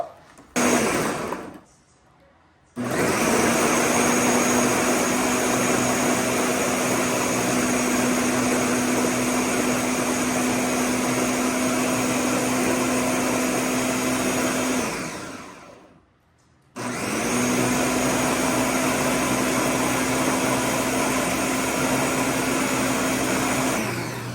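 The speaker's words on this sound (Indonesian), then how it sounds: "Kita blender dulu." A kitchen blender whirs loudly and steadily, cutting out briefly twice before starting up again, with no talking.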